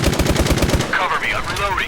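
Rapid automatic gunfire in a first-person shooter game rattles out in a dense burst of evenly spaced shots, then gives way to in-game voice callouts.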